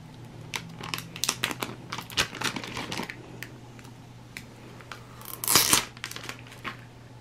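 Cricut adhesive vinyl is peeled off its backing at an angle, making close crackling, crinkly tearing noises in short bursts, with a louder ripping stretch toward the end.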